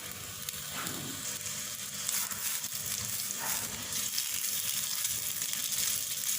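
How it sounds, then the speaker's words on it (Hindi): Kebabs shallow fry in a little hot oil in a pan, giving a soft, steady sizzle and crackle that runs evenly throughout at low volume. "तेल थोड़ा सा गर्म हो जाए तो अपने कबाब इसमें डालेंगे और उनको शैलो फ्राई करेंगे।"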